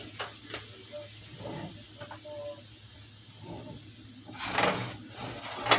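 Gravy sizzles in a hot pan on the stove, a steady low hiss broken by a few utensil clicks and scrapes and a louder flare of sizzling near the end.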